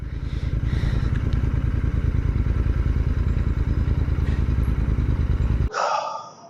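A Royal Enfield 650cc twin motorcycle idles loudly up close with a steady throbbing beat while being parked, then the engine is shut off and the sound drops away abruptly.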